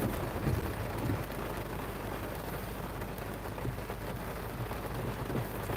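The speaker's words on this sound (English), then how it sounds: "This thing is dumping rain" Heavy rain pours down during a strong storm in Pennsylvania while the sun shines, a steady, dense hiss of downpour with a low rumble underneath, continuous and close, with no talking.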